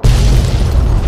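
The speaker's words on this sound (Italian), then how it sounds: "Una gran bella esplosione, America style!" A cistern blows up in the video game Fallout 3, a loud, deep booming explosion that starts abruptly and rumbles on heavily for about a second with no talk over it.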